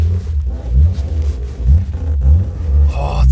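A Ford Cortina XR6 engine rumbles steadily while driving, a loud, close low drone that swells and dips with throttle, with brief higher noise near the end.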